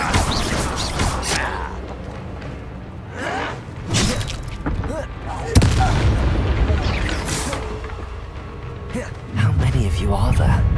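Incendio fire spells cast in Hogwarts Legacy combat: repeated whooshing, crackling bursts and booms, with a sharp loud impact midway, set against a dense, busy game mix with voices underneath.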